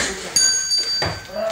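Small bell rung as a radio theatre effect in a Romanian comedy play, bright ringing tones struck a couple of times over voices talking and shuffling.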